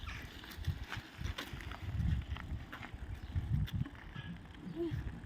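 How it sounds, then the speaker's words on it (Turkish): Someone rides a bicycle outdoors, apparently one-handed, with a steady rattle and rolling noise under wind buffeting and faint, intermittent clicks. "Size beraber bisiklet süreceğim."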